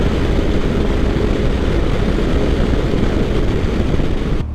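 A 2021 Can-Am X3 Max XRS Turbo RR at full throttle roars with a dense, steady, loud engine drone heard from on board, constant for several seconds before cutting off abruptly at the end.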